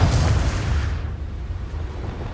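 A Confringo blasting spell explodes in Hogwarts Legacy, a loud, close, rumbling blast that dies down over about a second and then leaves a low, fading rumble.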